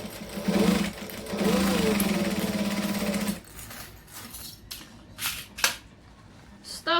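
A sewing machine stitches a camera bag at a 2.5 stitch length, running in two close, steady bursts before stopping; afterward come quieter handling clicks and rustles.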